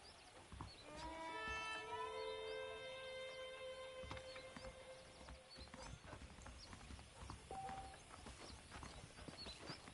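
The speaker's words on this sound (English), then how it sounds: "The horses are saddled up over here." Hooves of a saddled horse in the Western video game Red Dead Redemption clip-clop steadily on a dirt path, with a clear whinny near the start and a faint ambient backdrop.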